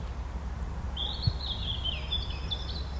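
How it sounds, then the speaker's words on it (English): Evening birdsong at a garden allotment: a thin, high warbling call drifts in and out for a couple of seconds over a low steady outdoor rumble, fairly faint and distant, with no talking. "It's good to be down here in the evening and listen to the birds."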